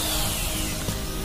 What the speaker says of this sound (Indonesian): Ini adalah saat kita gunakan untuk mengebor tembok